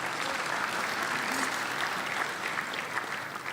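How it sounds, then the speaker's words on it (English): Sustained audience applause at a basketball league awards night, a steady even roar of many hands clapping throughout with no talk over it. "yes, round of applause"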